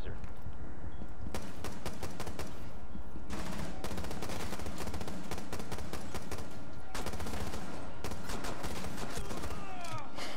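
Rapid automatic gunfire in a first-person shooter game, loud close bursts of shots in several long volleys separated by short pauses.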